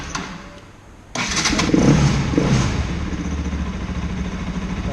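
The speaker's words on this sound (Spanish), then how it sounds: "Así que bueno, le vamos a dar arranque." A fuel-injected Bajaj Pulsar NS200 motorcycle with a newly installed Powertronic ECU cranks and fires, its engine catching abruptly and then settling into a steady, loud, close idle with no talking.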